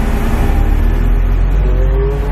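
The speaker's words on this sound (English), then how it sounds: "And that car is gonna pass." A car passing close by alongside a Lamborghini, a loud, steady engine roar and tyre hum that builds slightly and sweeps past without any talk.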